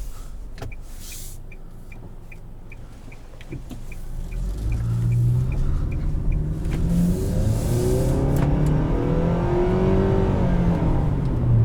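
A 2020 Nissan Sentra SV with a 2-liter engine and CVT pulling away on the road, a steady cabin drone that swells into a sustained, smooth rising engine tone, heard from inside the car with no talking.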